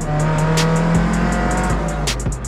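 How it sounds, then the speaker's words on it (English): Loud, steady car engine drone with a deep low rumble from a faulty exhaust and occasional sharp clicks and pops on top, no voices. "The exhaust is making a right racket."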